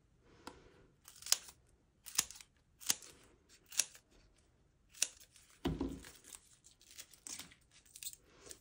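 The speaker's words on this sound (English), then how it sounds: "we're going to take some of our foam pads, and what we're going to do is we're going to start and cut these down" Scissors snip foam pads into thin strips in a quiet craft setting for card making, giving a series of short, sharp, close cuts with brief pauses between them and faint rustling.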